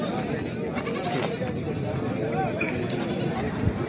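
Goats bleat repeatedly amid the steady hubbub of a crowded goat market, with buyers and sellers talking throughout.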